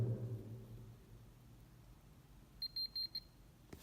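A short run of quick, high electronic beeps, about five in a row, sounds over a quiet low rumble.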